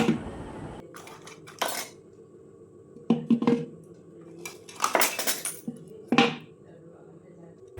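Puja items for a Bengali household Lakshmi puja tipped one by one into a pot: scattered metallic clinks and rattling clatters in separate bursts, with quiet gaps between them.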